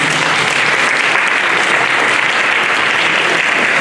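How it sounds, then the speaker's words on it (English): Audience applause at a Chinese American WWII veterans Congressional Gold Medal ceremony in Fresno, steady loud clapping from a crowd that fills the whole stretch without pause. "So let's give a round of applause for Hubert."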